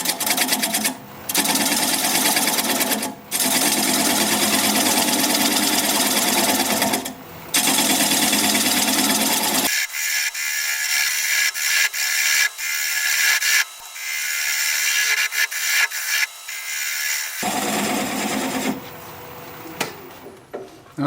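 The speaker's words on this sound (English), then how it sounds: "I'm going to grab a 3/8 inch bowl gouge and commence to removing that tenon." A 3/8 inch bowl gouge cuts away a tenon on a wood lathe turning a small candle holder, producing loud, buzzing chatter in long passes separated by brief pauses.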